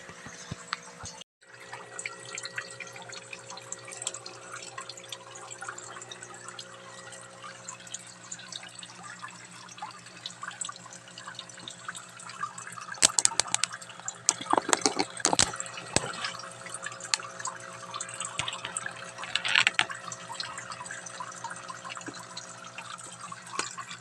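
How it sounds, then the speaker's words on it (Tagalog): Water pours steadily into a crayfish tank from a natural, unchlorinated water source, a continuous rushing fill with some splashing bursts partway through, heard alone with no talking. "So dito pala ako magre-refill ng tubig guys."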